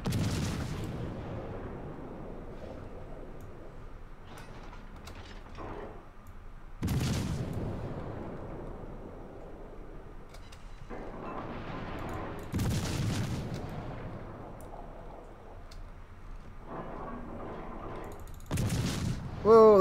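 Naval artillery fire in the video game World of Warships: several heavy booming salvos spaced several seconds apart, each a sharp blast with a rumbling tail, over a quiet ambient background.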